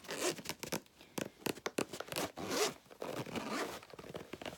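A zipper on a sturdy storage bag is pulled open in a series of short, close, rasping strokes with brief pauses between them, followed by a longer steady zip and some light rustling.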